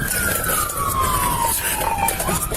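Police car sirens wail during a pursuit, a falling electronic tone sweeping downward over rumbling engine and road noise, loud and close, amid chaotic background clatter.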